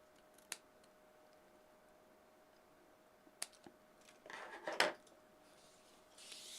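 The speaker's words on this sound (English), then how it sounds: "go in and remove your bulk using your snips" Craft snips cutting away bulk from card make a few sharp, faint snips, followed by a brief cluster of rustling cuts and a light scrape, quiet and close with no talking.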